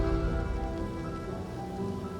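Steady, dense rain from the dark, gloomy video game Varsapura, set in a paranormal modern-day Singapore, pours continuously with an even hiss and low rumble and no voices.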